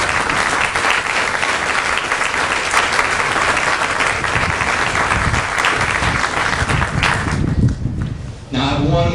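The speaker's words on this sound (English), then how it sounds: "Let's give these two gentlemen a round of applause." Loud, dense applause from a large audience at a Marine Corps graduation ceremony, steady for about eight seconds before dropping away as a voice begins to speak.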